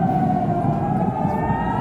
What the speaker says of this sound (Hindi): लगातार दोनों देशों के तनाव को कवर करते हुए सायरन बजाया गया।